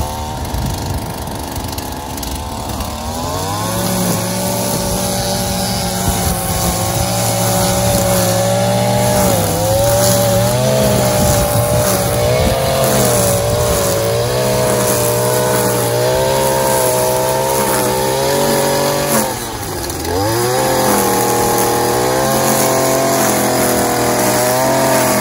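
A STIHL string trimmer cuts grass, its small engine whining steadily at close range for the full stretch, with slight pitch dips as the line meets the weeds.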